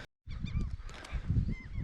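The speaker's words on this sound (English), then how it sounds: "These seagulls are going mental up here." Gulls calling loudly and repeatedly at an abandoned WW2 Chain Home radar station on the Scottish coast, overlapping honking cries with wind noise, close and persistent.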